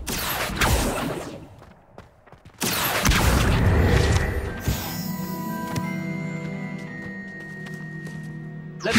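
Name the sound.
Accio summoning spell in Hogwarts Legacy video game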